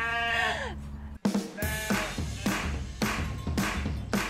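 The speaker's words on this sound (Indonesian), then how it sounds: "Ada domba yang masih kecil-kecil." Sheep, including young lambs, bleat loudly and close by, several wavering calls one after another with short gaps between them.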